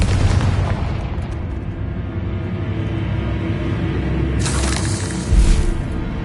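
Confringo fire spell explosion in the Hogwarts Legacy video game: a sustained rumbling blast with crackling debris, swelling with a brighter burst near the end and a low thump just after, loud throughout.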